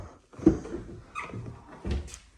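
Driver's side door of a 2019-2025 Chevrolet Silverado 1500 pickup opening, a couple of soft clicks and thumps of the latch and hinge, close and fairly quiet, no voices.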